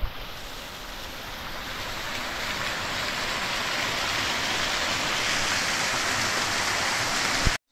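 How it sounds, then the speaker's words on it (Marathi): Water flowing down over a rock slab near Pandav cave, a loud, steady rushing hiss like a small waterfall, close and continuous, cutting off abruptly at the end. "फरचीवरून ही वरून पाणी येत आहे"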